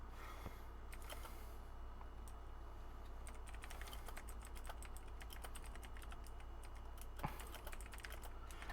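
Rapid, uneven clicks of typing on a computer keyboard, close and fairly soft, running steadily throughout over a low steady hum, with no talking.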